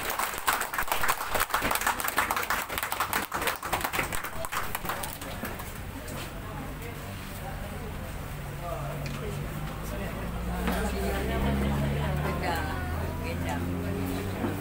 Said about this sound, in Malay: Satu tepukan kepada untuk beliau.